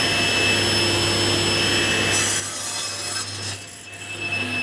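A power saw trims the corners off wood blanks for a queen-size platform bed base, a steady loud whine of machinery and cutting running throughout, dipping slightly in the second half as the cut finishes.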